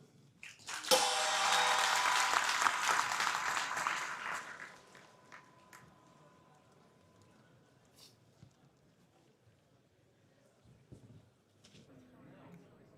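An audience at the opening of the Tata Steel chess tournament in Wijk aan Zee breaks into dense applause that swells for several seconds, then fades into quiet room sounds.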